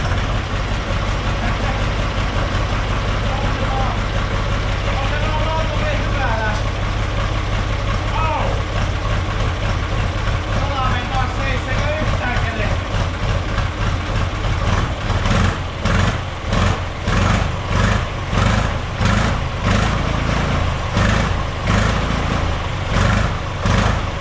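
A Valmet 361D tractor diesel engine, just given a fresh battery, cranks and settles into a rough, pulsing idle with rhythmic chugging, loud and close, while a voice talks over the early part.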